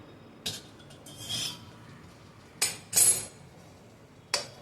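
Grated dry coconut being mixed with sugar syrup in a pan, heard as a handful of short scraping and clinking strokes of a spoon, fairly close, with quiet gaps between them and no talking.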